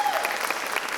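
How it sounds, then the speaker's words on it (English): A brief burst of audience applause for a student at a school orchestra spring concert, dense clapping from a crowd in a hall, fairly close and steady. "So let's all give Amaya a round of applause,"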